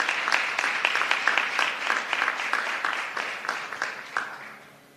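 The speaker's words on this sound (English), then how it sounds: "I want you to give her a big round of applause" An audience at a breast cancer symposium breaks into a round of applause, dense overlapping clapping that holds steady for several seconds, then thins and fades at the end.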